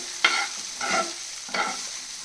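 Fried okra (bendakaya) being stirred in a pan gives three distinct scraping strokes with a light sizzle underneath, close and without speech.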